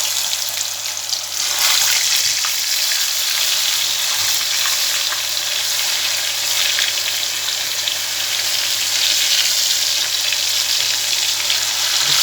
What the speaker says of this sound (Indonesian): aku goreng ya